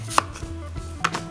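A kitchen knife chops an apple into slices on a cutting board, two sharp close knocks about a second apart with faint scraping between them.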